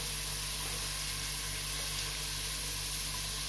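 A steady, even sizzle of food frying in a pan while chole matar is cooked, a continuous hiss with no pauses and no talking.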